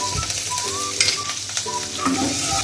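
Butter sizzling in a hot pan while being stirred during cooking of honey garlic prawns, a loud close crackle with quick scraping strokes throughout.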